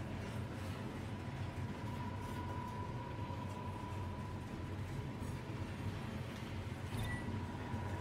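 A passing train in the Final Fantasy XV game rumbles steadily, with a continuous low roar and a faint sustained whine that holds throughout, no talk over it.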